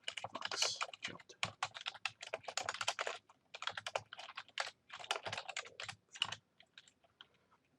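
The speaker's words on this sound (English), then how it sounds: "to practice typing faster and faster" Typing on a computer keyboard in Microsoft Word: quick, irregular bursts of close keystrokes with short pauses, heard alone.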